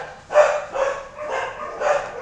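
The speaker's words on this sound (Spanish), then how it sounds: "Disculpen si es que escuchan muchos ladridos." Several neighborhood dogs bark outside, with four loud, evenly spaced bursts of barking over a steady background and no talk.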